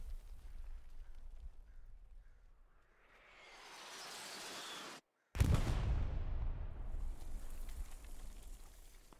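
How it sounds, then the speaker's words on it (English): Grenades and smoke grenades going off in the military shooter game Squad on the Hill 400 map: a rising hiss and rumble, a brief dropout, then a loud, close blast followed by sustained crackling roar. "He's throwing nades now, throwing some smoke."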